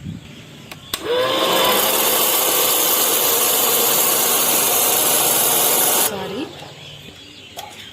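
An electric popcorn maker switched on, its motor and fan starting with a sudden loud steady whir that holds for about five seconds before cutting off and winding down, close up and alone.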